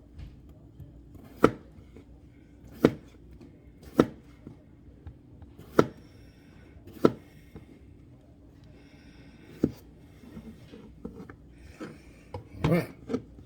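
Potatoes are cut with a knife on a board in a sparse series of about nine distinct taps, irregularly spaced and close, over a faint steady kitchen hum.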